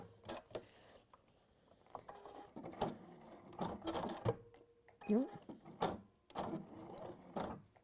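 A sewing machine runs a quarter-inch straight seam along fabric corner pieces placed right sides together. It gives short, intermittent bursts of rattling mechanical stitching with pauses between runs, close and fairly quiet, alongside a person talking.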